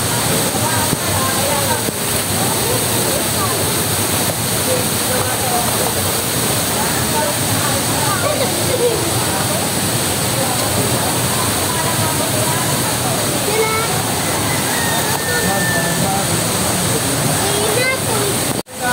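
Puray Falls in Montalban, Rizal pours with a constant, loud, broadband roar of cascading water, steady from start to finish, while voices murmur faintly beneath it.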